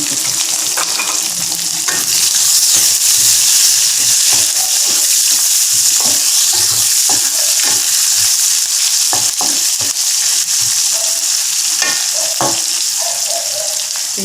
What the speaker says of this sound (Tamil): வெங்காயம், பூண்டு, காஞ்ச மிளகாய், இந்த ஊசி மிளகு ஒன்று வேணும் அடிக்கிட்டு.